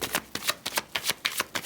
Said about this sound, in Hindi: थोड़ा और कार्ड्स लेंगे, एक कार्ड्स और।